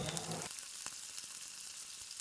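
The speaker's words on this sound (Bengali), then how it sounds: "এক পিঠ ভাজা হয়ে গেছে, আর এক পিঠও আমি ভেজে নেব।" A spinach paratha fries in oil on a pan, producing a quiet, steady sizzle with a brief louder burst of frying at the start.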